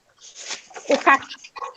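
A dog whimpers close to a microphone in short, high, thin whines and breathy cries that rise and fall in uneven bursts.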